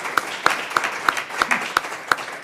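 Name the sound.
audience applause for speakers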